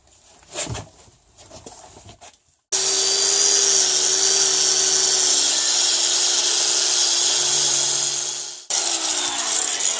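A power tool cleaning the threads on a suspension strut gives a loud, high whine that runs for about six seconds and then starts again, after a few scattered knocks and taps.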